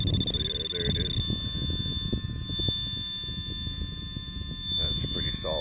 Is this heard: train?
no